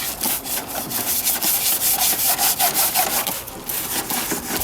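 A brush scrubs degreaser over a car engine in quick back-and-forth strokes, a close, loud, bristly rasping that keeps a steady rhythm throughout.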